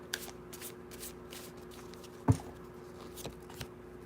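Tarot cards shuffled and drawn by hand, soft crisp riffles and light flicks with one sharper snap of a card near the middle, quiet and close.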